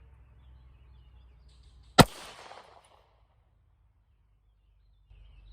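A single sharp, loud 9mm Luger pistol shot fired with CCI Blazer Brass ammunition cracks outdoors, followed by a short fading echo and then near silence.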